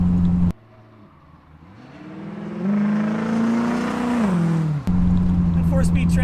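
A 1972 Datsun 580Z Spyder with a 4-speed transmission cruises along. Its engine drones steadily, falling away and then climbing in pitch as the revs rise, fairly close and loud.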